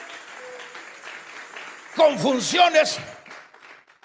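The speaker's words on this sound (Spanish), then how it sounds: "Vamos a regalarle ofrenda de palmas al Dios de la gloria" A church congregation breaks into applause partway through, a short loud burst of clapping mixed with shouts that rises over a preacher's talk and then fades back under his voice.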